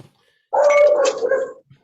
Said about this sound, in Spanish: El perrito no es nuestro